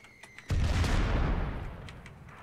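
A single heavy mortar blast in ARMA 3, a sudden deep boom that rolls out and slowly decays over two seconds, preceded by a few faint distant thumps.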